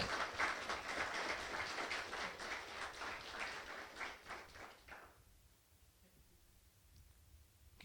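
A church congregation applauds during a sermon, a fairly quiet wash of clapping that runs for about five seconds and then stops, leaving a hushed room.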